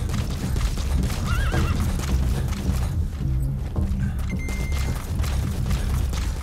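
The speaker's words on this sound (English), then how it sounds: "let me get Diamond Horse" A horse in the Metal Gear Solid 5 video game whinnies loudly and gallops, clip-clop hoofbeats pounding continuously close by while the neigh rises and falls over them, no talking.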